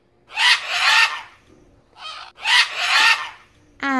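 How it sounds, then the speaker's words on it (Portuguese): A macaw gives two loud, harsh, raspy squawks close by, with a fainter squawk between them and a brief sharper call at the end, in a children's animal-naming setting. "Arara."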